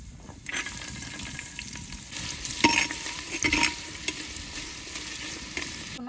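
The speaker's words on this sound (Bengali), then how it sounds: "এবার কুচানো পেঁয়াজটা দিয়ে দেবো তেলের মধ্যে।" Chopped onion dropped into hot oil in a handi pot, sizzling and frying steadily with bursts of stirring and clattering near the middle, close and fairly loud, no voices.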